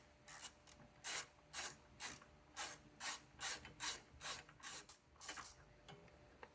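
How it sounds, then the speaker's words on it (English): A ratchet with a 13 mm socket on a long extension works a bolt loose while a 12-volt battery bracket is removed from a 2017-2023 Chevrolet Bolt EUV, clicking in about a dozen quiet, evenly spaced bursts. "taking your 13 millimeter with a long extension, you're able to get down in there and undo the bottom bolt"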